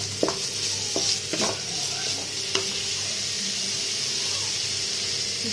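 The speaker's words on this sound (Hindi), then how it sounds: "तो ये प्याज हमारा ब्राउन हो गया, इसमें हम बारीक रेशे वाली चिकन डाल रहे हैं।" Shredded chicken added to browned onions in a hot pan, a steady close sizzle and hiss of frying with a few stirring scrapes and clinks near the start.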